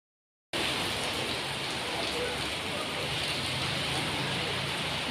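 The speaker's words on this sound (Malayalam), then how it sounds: "കണ്ടോ നല്ല മഴ അടിച്ച്" Heavy rain pours down steadily, a dense unbroken roar of drops on surfaces that begins abruptly and continues without pause.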